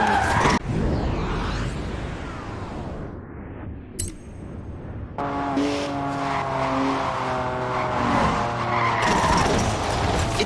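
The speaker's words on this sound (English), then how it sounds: "Look at the smoke! Please leave me some tread for the drive home, Stiggy." Tires of a rear-wheel-drive BMW 1M squeal and skid loudly during a smoky drift, with the engine revving under the continuous screech.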